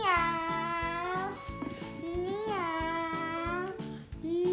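A child imitates a cat, giving a run of drawn-out, sing-song meows, steady and close, while a toy-like rhythmic tapping runs underneath.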